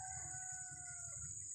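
Wild junglefowl in a forest; a faint, distant crowing call heard over steady insect buzzing and background hum, no talk.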